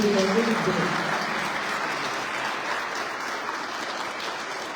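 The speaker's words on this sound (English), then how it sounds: "Can you give another round of applause?" Audience applause at a family and youth program event, a sustained, fairly dense round of clapping that tapers slightly toward the end, with a brief voice at the start.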